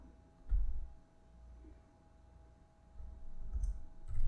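Faint, sparse clicks of typing on a computer keyboard come in a few soft bursts over quiet room noise, with no speech.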